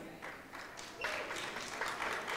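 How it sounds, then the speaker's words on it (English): Parents in the audience at a youth public speaking event give a round of applause: soft, distant clapping that swells into a fuller, steady patter after a second. "But give yourselves a round of applause,"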